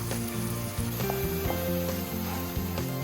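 Chopped capsicum roasts in a hot pan for pav bhaji, giving a steady close sizzle and crackle while a faint tonal hum runs underneath.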